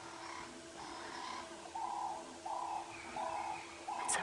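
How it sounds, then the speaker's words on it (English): Doves cooing on an early-morning wildlife safari drive in the African bush, a series of soft, evenly spaced hoots repeating steadily over a quiet outdoor background. "The doves are also being exceptionally vocal."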